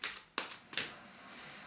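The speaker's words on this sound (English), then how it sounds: "So let's give these a shuffle and see what spiritual message comes up for us this" Magical Unicorn Oracle cards shuffled by hand: a few quick riffling bursts up close, then a softer steady rustle as the deck settles, with no talking over it.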